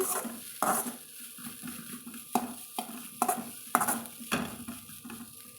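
Ingredients sautéed in ghee in a pan, with repeated sharp metallic scrapes and clinks of a spoon stirring against the pan over a soft, continuous sizzle.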